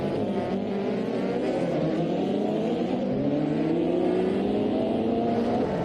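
Race cars in a Formula 1 video game, a continuous loud engine whine with several overlapping rising tones as cars accelerate together, steady and unbroken throughout.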